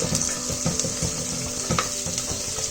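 Cashew nuts sizzle with onion in hot oil while cooking for palak rice, a loud, steady crackling fry with occasional soft stirring knocks throughout.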